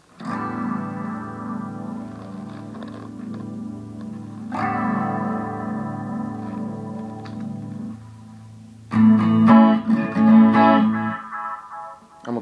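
Electric guitar strummed with an echo effect switched on, sustained chords ringing with repeating reverberant tails, then a louder burst of strums near the end, played alone without talk.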